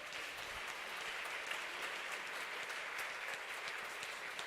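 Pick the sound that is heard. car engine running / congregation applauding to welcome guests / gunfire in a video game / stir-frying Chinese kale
congregation applauding to welcome guests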